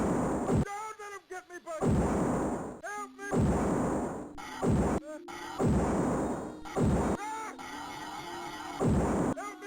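Repeated blasts of gunfire aimed at giant bugs in the TurboGrafx-16 game It Came From the Desert, loud bursts spaced a second or so apart over game music, with a voice line between shots.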